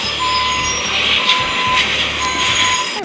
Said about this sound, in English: I wrote garbage truck.